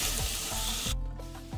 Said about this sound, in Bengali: আলুটাকে এভাবে নাড়িয়ে চাড়িয়ে লাল লাল করে ভেজে নেব